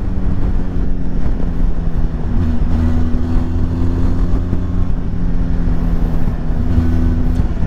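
A 2023 Benelli TRK 502 X adventure motorcycle's engine drones steadily while riding, a loud, close, continuous hum with a constant pitch and no voices.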